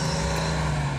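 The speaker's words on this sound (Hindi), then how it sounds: "जैसे ही ड्राइवर गाड़ी को स्टार्ट करके चलाता है" A DeLorean car starts and drives off, its engine a steady, even drone with a low hum running throughout, with no voices.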